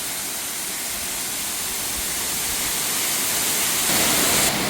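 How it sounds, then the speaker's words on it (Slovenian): Waterfall on the Azores heard from just beneath the falls, a loud, dense, continuous roar of crashing water that swells slightly near the end. "Evo, tik pod slapom."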